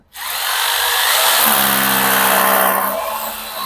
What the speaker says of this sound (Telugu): దీనికి మనం ఏం చేయాలి డ్రిల్ చేసుకోవాలి